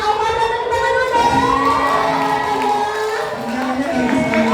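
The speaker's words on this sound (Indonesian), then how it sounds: "Luar biasa, beri tepuk tangan." Seminar audience at a 2025 health festival opening cheers and shouts, children's voices prominent, a dense, steady crowd roar with whoops rising over it throughout.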